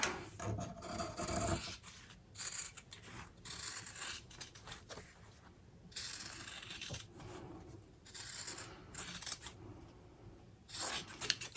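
Scissors snipping around fabric cat ears for a fanny pack, a series of faint, close rasping cuts in short bursts with small pauses between.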